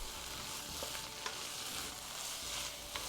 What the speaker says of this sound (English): you can't be lazy here, you have to keep stir frying it